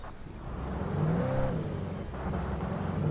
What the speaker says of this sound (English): This ute sounds terrible.